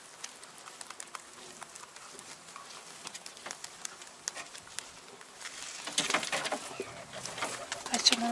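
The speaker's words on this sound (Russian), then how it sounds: "Голубь прилетел." A pigeon coos faintly outdoors amid soft rustling and patter, with the sound getting a bit louder toward the end.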